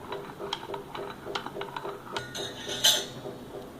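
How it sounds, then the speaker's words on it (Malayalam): Metal spoon clinking repeatedly against a cup while coffee is stirred for a homemade cappuccino, a run of light, close ticks and chinks at an uneven rhythm, with one brighter clink near the end. "നല്ലോണം ഇളക്കി കൊടുക്കുക."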